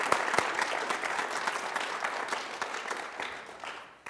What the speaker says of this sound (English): please give one more round of applause for the students who have worked so hard tonight to make this choir concert happen